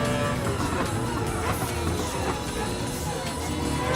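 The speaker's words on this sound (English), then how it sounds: "definitely can hear that engine" A race car engine roars continuously in a Gran Turismo endurance race, loud and dense with a steady high-revving drone throughout and some crowd-like noise beneath it.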